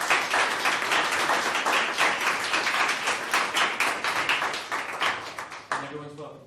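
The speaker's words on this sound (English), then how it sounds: "I'll give you another round of applause for working as well." An audience at a university science-club lecture applauds with closely spaced rhythmic claps that slowly thin and fade, and a voice starts speaking as the clapping ends.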